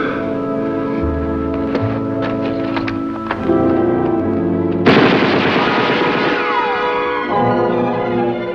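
Battle gunfire in a 1952 World War II drama: rapid machine-gun rattles and sharp shots over a sustained musical bed, with a heavier burst of firing partway through, loud and continuous.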